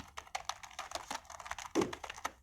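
Typing on a computer keyboard while entering words in Microsoft Word, a quick uneven run of close, light key clicks with a firmer tap near the end, no voices.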